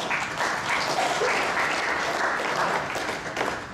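A seminar audience applauds, giving a continuous, even patter of clapping at moderate distance that holds steady throughout and thins slightly at the end.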